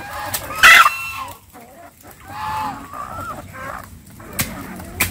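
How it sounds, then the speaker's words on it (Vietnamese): Chickens of the Vita breed on a small Vietnamese poultry farm cluck close by, and a rooster crows loudly near the start. The birds chatter over steady low farmyard background noise. "Đây là gà Vita này"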